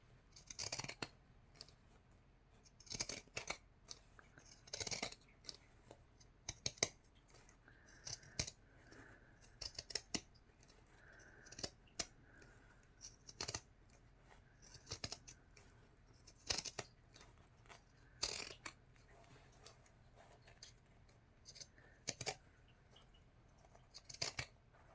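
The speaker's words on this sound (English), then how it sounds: "So I'm going to just go ahead and start trimming." Scissors trim fabric for a journal cover, giving a long run of crisp, close snips in an uneven rhythm with short pauses, and no talking.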